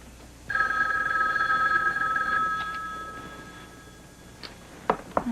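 A household telephone rings loudly and continuously for about two seconds, then fades and stops, followed by a few faint clicks and taps.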